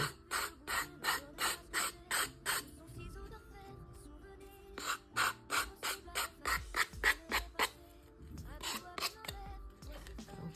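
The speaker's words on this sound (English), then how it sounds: "I'll just do a little more sanding" Rhythmic rasping strokes of sandpaper rubbing a decoupage coaster, in quick bursts with short pauses between sets, close and fairly loud.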